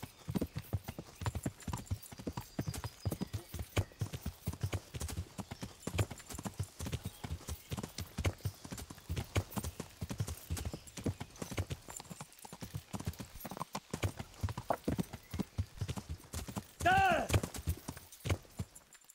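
Horse hooves clip-clop in a steady, close, rhythmic trot in the video game Kingdom Come: Deliverance, with a brief whinny near the end.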